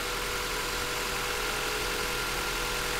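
A 1994 Acura Integra LS coupe engine idles steadily, a faint even hum with no talk over it.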